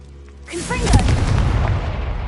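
A Confringo fire spell bursts in Hogwarts Legacy, a deep, loud booming explosion that erupts suddenly and rolls on with rumbling debris and crackle, with a voice heard over the start.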